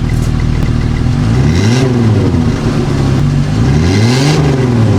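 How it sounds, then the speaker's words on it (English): A cheap used minivan engine fitted with an aftermarket turbo kit and intercooler revs loudly and repeatedly, rising and falling in two clear sweeps over a steady close idle, with no talking. "I'm gonna give it a little rev."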